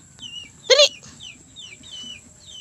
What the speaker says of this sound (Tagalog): Ayan yung manok ni Dada na pangsabong dalawa